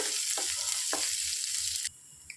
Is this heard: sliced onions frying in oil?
yes